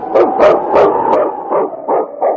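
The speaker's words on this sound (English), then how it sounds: "It's Yukon King, swiftest and strongest lead dog of the Northwest" A husky lead dog in an old radio drama barks about eight times in close succession, the sharp barks loud at first and then slightly softer.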